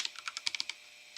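Quick bursts of keystrokes on a computer keyboard while entering code in R, about eight clustered taps in just over a second, close and crisp with no voice.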